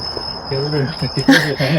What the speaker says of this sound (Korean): 나 여기 귀뚜라미 소리 시끄러워서 못 자겠다